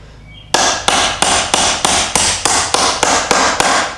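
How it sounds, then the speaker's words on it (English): Hammer striking a vehicle U-joint to drive it out, eleven sharp, loud metallic whacks in a steady, evenly spaced rhythm, close by and with no talking. "I'm going to give it a few whacks and see if this starts moving."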